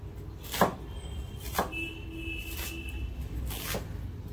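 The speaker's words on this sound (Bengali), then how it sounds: "তো পেঁয়াজ আমি কুচিয়ে নিচ্ছি।" A knife chops half a large onion on a board in a home kitchen, a few separate crisp cuts spaced about a second apart, close and fairly quiet with no talk.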